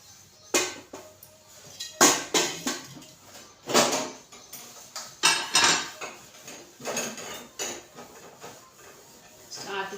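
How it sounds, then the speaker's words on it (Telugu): Dishes and cutlery clatter and clink in repeated bursts as soaked pots are scrubbed, close by, with scraping and knocking in an uneven rhythm. "గిన్నెలు కూడా నానబెట్టేసి అవి కూడా తోమేయాలి"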